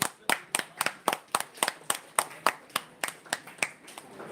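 An audience at an All India Lawyers Union Telangana event claps for a guest from the student wing, with about seventeen sharp, evenly spaced claps in steady rhythm, fairly close and clear with no talk.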